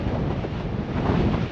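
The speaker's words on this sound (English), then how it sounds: "It's windy." Strong wind buffets the microphone on a fell near Coniston Old Man in the English Lake District, a continuous dense roar with no voices.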